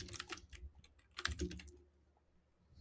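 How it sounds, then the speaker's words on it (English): Quick clattering keystrokes on a computer keyboard, close and fairly faint, coming in short uneven bursts that trail off toward the end, with no voices. "Mr. Diesel Doug is complimenting your keyboard, Oreo Byte. He says it sounds great"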